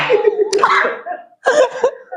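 Two separate bursts of harsh coughing, close by, with a short pause between them.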